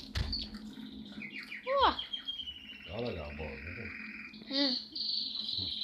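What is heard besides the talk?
bird chirping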